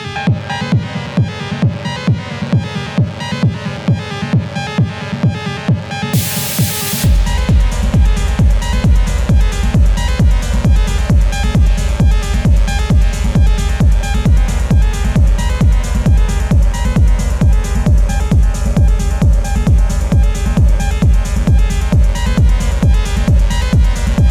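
A driving techno track with a steady four-on-the-floor kick and busy hats; a noisy riser sweeps up and the full pounding beat drops in, loud and continuous.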